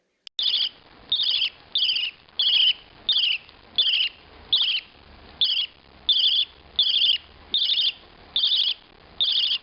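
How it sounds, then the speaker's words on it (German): Budgerigar cooing begging calls, a steady series of about a dozen evenly spaced, close, warbling bursts with short pauses between them and no other sounds. "gurrende Laute sind die sogenannten Bettelaute"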